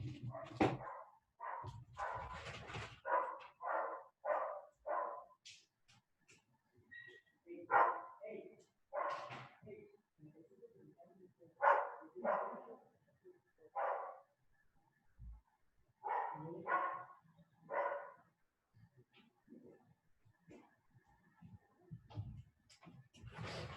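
A dog barks repeatedly in short bursts close by during an indoor lecture on polycaprolactone lifting threads, with the barks interleaved among and partly under a speaker's voice throughout.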